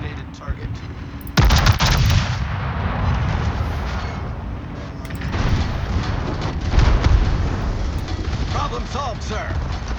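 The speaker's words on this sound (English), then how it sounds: "Concentrate fire on the designated target." Warship guns fire in the naval battle game World of Warships, a heavy booming salvo followed by rumbling, rolling blasts under continuous battle noise, with game voices speaking over it.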